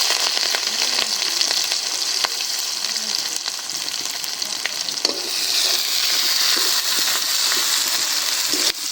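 Onion frying in a pan with a bay leaf, giving a loud, continuous crackling sizzle up close, broken by occasional stirring scrapes and swelling a little toward the end.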